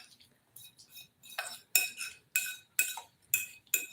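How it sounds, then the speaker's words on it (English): A metal utensil clinks and scrapes against a bowl while a garlic mixture for lobster tacos is stirred, a close, quiet run of sharp taps and scrapes in an uneven rhythm. "I'm going to give this a good mix."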